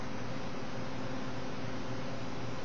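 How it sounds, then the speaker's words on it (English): A dehumidifier and fans run in a house two rooms away, heard as a faint, even, steady hiss of airflow with no changes. "that's the sound of the dehumidifier and the fans that have been blowing through our house"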